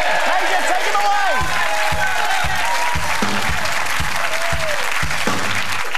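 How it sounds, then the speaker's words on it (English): A game show's studio audience claps and cheers continuously, loud and dense throughout, with a few voices calling out over the applause. "Round of applause for Jeremy!"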